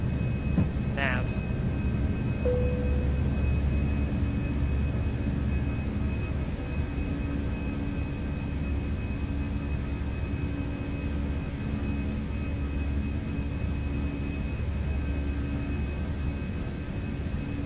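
Simulated Airbus A319 jet engines in X-Plane 12, flown as a Croatia Airlines aircraft climbing after takeoff, give a steady, loud broadband roar with low rumble and a faint tonal whine. The roar runs unbroken throughout, with a brief chirp near the start.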